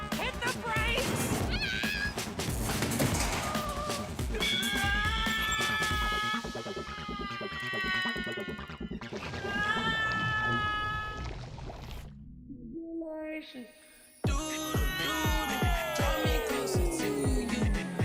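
A cartoon cat meows repeatedly in bright, warbling cries amid music and sound effects, with voices talking between the calls and a brief drop to near silence before a sudden loud return.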